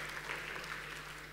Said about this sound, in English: Round of applause if you've ever played with Legos.